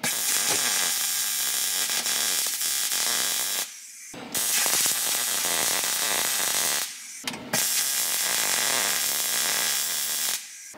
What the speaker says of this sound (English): But let's get this rod welded up.